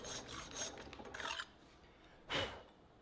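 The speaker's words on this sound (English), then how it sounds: "So I had to find a way to file out the channel and then make it actually fit the tang." A hand file rasps a slot into a solid brass sword guard, fitting it to a katana tang, with several quiet, close scraping strokes followed by a pause and then one last stroke.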